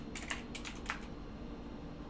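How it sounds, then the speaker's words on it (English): Quick keystrokes on a computer keyboard: a short flurry of about half a dozen crisp clicks in two clusters, fairly faint and close, then only low background hum. "I'll just type it in real quick here."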